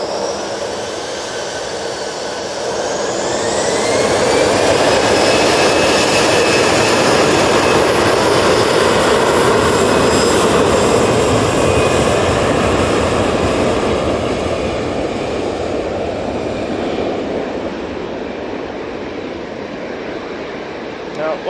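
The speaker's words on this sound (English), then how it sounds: "Off to Gibraltar we go with this A320." Airbus A320 jet airliner taking off from Manchester Airport bound for Gibraltar, a loud, steady engine roar that swells within the first few seconds and holds with a rising whine, then eases slightly toward the end.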